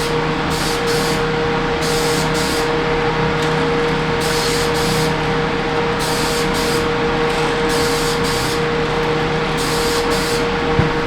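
Rust-Oleum spray paint hissing from an aerosol can onto an old 100-year-old Chicago ratchet, in repeated short bursts of spraying over a steady background hum, close and fairly loud.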